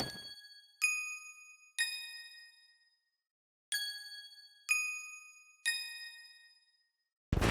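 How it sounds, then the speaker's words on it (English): Sparkly synth bell presets from FL Studio ring out in six bright, struck tones in two groups of three. Each decays cleanly into silence, with no talk. "we're going to move on to a second pair of bells"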